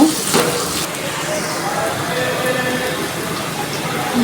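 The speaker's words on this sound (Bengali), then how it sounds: "এখন আমি একটু কষিয়ে নেব।" Powdered spices (turmeric, chili, coriander powder and salt) fry in a pan with a continuous sizzle, starting with a sharp clatter and then settling into a steady hiss.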